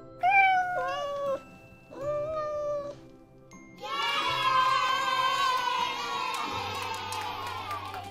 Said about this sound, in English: Baby cat is called a kitten.